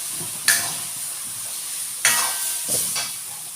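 Coconut milk (santan kara) mixed with warm water is stirred in a container, with three sharp clinks of a utensil against the rim over a soft swishing, close and quiet.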